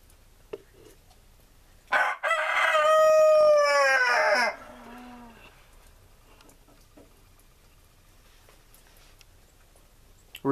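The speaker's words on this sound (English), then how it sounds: "Roosters pretty much crow constantly" An Orloff rooster crows once, loud and close, a long harmonic call lasting about two and a half seconds and trailing off, followed by quiet background.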